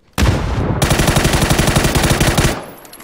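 A loud, rapid burst of automatic gunfire rattles for over two seconds in PUBG on the Miramar desert map, close and without talk.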